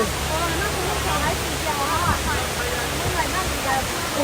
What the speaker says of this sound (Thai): หน้ำตกแล้วน่าน้ำตกของจริงอ่ะ